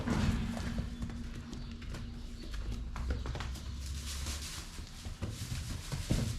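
Young future heifers run about a roomy barn pen after being kept in hutches, their hooves thudding and clopping irregularly over a constant noisy farm background.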